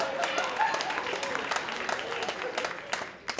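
Comedy club audience applauding in a steady burst of clapping, a dense crowd wash that holds for a few seconds before tapering, with no talk over it.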